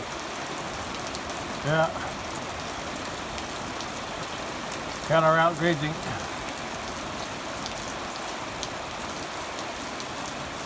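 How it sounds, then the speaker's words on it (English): Light rain patters steadily on an outdoor pasture throughout, a soft continuous hiss, with a man's brief remarks breaking in twice over it. "It's a light rain though."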